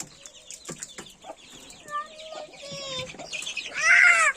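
Chicks cheeping in high, quick chirps that grow louder and busier toward the end, with soft pecking taps at egg and brief clucks close by.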